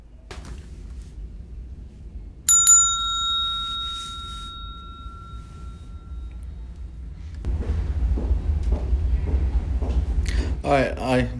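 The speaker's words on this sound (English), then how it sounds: "Just ring the bell when you're finished." A bell is rung once with a bright, clear strike that rings out and slowly fades over several seconds. Afterward come shuffling, rustling room noise and a few sharp clicks.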